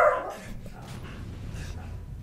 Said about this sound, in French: désolé pour le chien qui gueule derrière